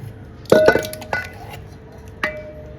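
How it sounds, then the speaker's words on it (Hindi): Malai (milk cream) being scraped and tipped into a metal cooking pot, with a few sharp metallic clinks and knocks of utensil against the pot, some ringing briefly, in a quiet kitchen. "तो हम इस बर्तन में इसको डाल देते हैं।"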